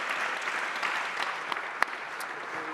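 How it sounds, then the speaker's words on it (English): Steady applause from an audience fills the room, a dense wash of clapping that holds at an even level throughout. "So how about a round of applause for them?"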